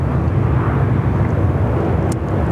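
A Qantas airliner takes off at Sydney Airport, a steady broad jet roar filling the whole stretch, loud and continuous with no voices over it.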